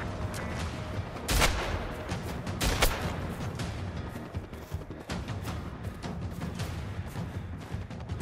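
Gunfire in the video game Generation Zero: repeated shots crack out, two louder bursts standing out among denser rattling fire, with constant busy background noise and no talk.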